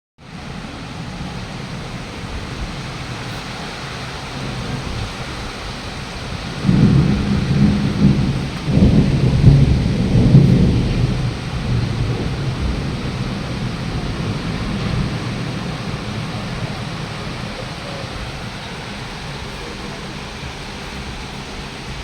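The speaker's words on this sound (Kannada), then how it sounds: "ಹೊರಗಡೆ ಅಂತೂ ತುಂಬಾ ಗುಡುಗು" Steady heavy rain with a deep rumble of thunder rolling in partway through, swelling for several seconds before fading back into the downpour.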